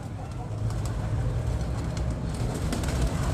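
Pigeons at a loft: soft low cooing in a steady murmur with brief fluttering bursts of wingbeats, fairly quiet and close, no talking.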